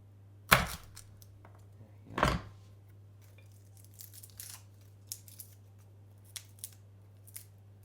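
A kitchen knife chops through homegrown garlic cloves on a board: two firm, close cuts followed by several lighter, spaced taps, over a faint steady hum.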